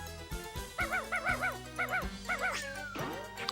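Dog barks and whimpers from the Sega Saturn game Bug!, a quick run of repeated high yips in a bouncy rhythm over steady game music, ending in a falling whine.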